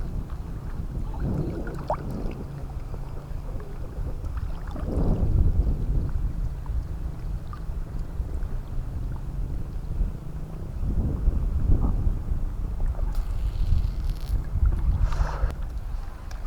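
Headwind buffeting a fishing boat out at sea off Burdeos Island, a steady rushing wind noise with the low drone of the boat and periodic gusts swelling and fading.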